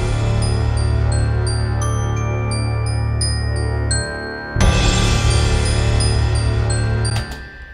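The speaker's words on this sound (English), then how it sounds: "a glockenspiel normally is sort of a fairly pretty instrument, but in this case it tends to sound a little bit sort of spooky or sinister" A spooky, sinister glockenspiel motif from video game music repeats bright high chiming notes over a sustained low drone, with a brief dip before the pattern resumes, loud and close.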